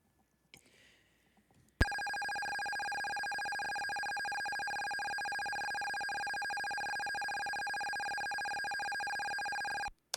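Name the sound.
old phone ringing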